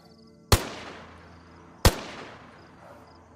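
Two loud, unsuppressed gunshots ring out in the DayZ video game, about a second and a half apart, each a sharp crack followed by a long, echoing decay.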